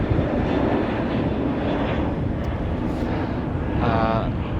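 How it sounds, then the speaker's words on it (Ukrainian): A fixed-wing airplane flies overhead on an island in the middle of the Atlantic Ocean, a loud continuous engine roar and rumble with wind buffeting the microphone, someone speaking faintly beneath it. "Зараз літак пролетить."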